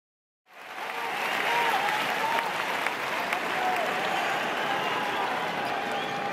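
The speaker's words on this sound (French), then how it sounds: "À l'applaudimètre, c'est Roger Federer" Tennis crowd at a Roger Federer match bursts into sustained applause after a quiet start, a dense, steady wash of clapping from a large stadium audience.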